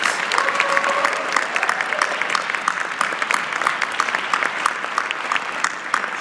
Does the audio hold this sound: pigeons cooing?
no